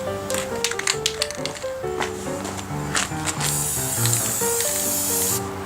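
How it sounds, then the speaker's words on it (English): Silver spray paint hisses steadily from an aerosol can onto a brass garage door handle tarnished by ten years of use, a continuous close spray in long bursts over soft background music. "I'm just going to spray paint it with some silver"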